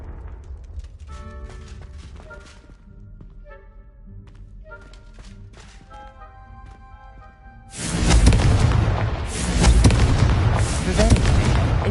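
A Confringo explosive spell in Hogwarts Legacy detonates with a sudden, heavy blast and a roaring rumble that swells twice and lingers, after a stretch of quieter tonal game sounds and voices.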